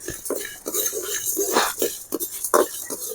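Lentils and whole spices such as coriander, mustard, fennel, pepper, cinnamon and dried chillies being dry roasted together in a pan, with utensil scraping and clinking in quick irregular bursts close by.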